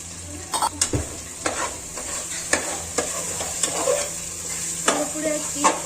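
Chicken sukka with chilli powder is stirred in a frying pan, a spatula scraping and clacking in irregular strokes over a quiet sizzle, with a faint voice in the background.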